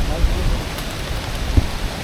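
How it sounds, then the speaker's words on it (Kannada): Strong wind buffets the microphone on a rainy monsoon hill trek along a ridge in the Western Ghats, a loud continuous rushing roar with deep low thumps from gusts and rain noise. "ಬಹಳ ಗಾಳಿ ಇದೆ ಇವತ್ತು ನೋಡಿ, ಗಾಳಿ"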